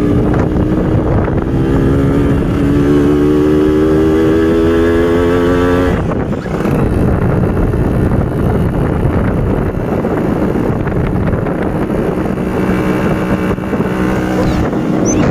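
A motorcycle engine labours steadily up a steep hill, a loud continuous drone with rising gear whine and heavy wind buffeting throughout, no voices.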